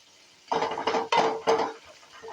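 Onions frying in a pan for paneer capsicum, stirred with a utensil that scrapes and clinks against the pan in three or four short close strokes, with no talking.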